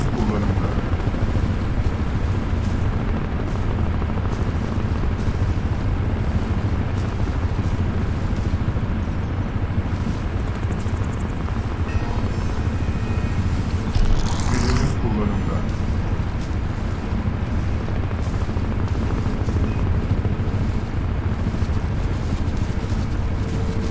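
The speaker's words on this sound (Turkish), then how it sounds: "Helikopter de var yukarıda tabi." A helicopter in the video game Crysis Remastered drones steadily overhead, mixed into continuous loud game ambience with brief effect bursts; a player talks over it throughout.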